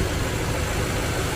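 A tuned 1150 hp BMW M engine, fully built with RK intakes and upgraded charge coolers, idles in a steady, dense, close rumble that fills the whole short stretch without a break.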